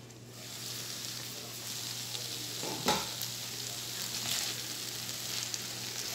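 Mixed vegetables for spaghetti, including carrots, cook in a pan over low flame with a soft, steady sizzle, a low constant hum beneath and one brief scrape of stirring midway.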